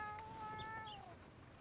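A cat in the video game Red Dead Redemption 2 gives a single drawn-out meow that slides downward, faint and alone over quiet background ambience.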